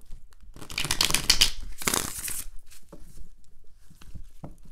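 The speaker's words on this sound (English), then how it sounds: "I'm going to go ahead and switch the type of shuffle here." Playing cards being shuffled: papery riffling and crinkling bursts, two main flurries close by, followed by a few soft scattered flicks and taps in a quiet room.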